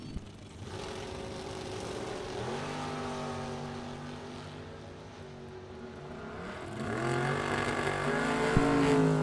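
Drag race cars at a bracket nationals event, a Chevy Beretta and the Red Dragon Buick, run down the strip: engines heard from a distance rise in pitch as they accelerate, growing louder toward the end over crowd ambience.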